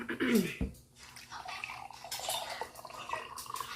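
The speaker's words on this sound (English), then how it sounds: "What I'm going to do is just pour me a glass." Herbal tea poured into a glass: a continuous splashing trickle of liquid lasting a few seconds, close by, with soft background murmur.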